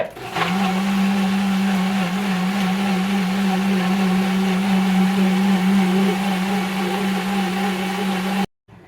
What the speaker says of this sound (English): I'm about to put it in the blender in small batches, and I'm gonna make it into paste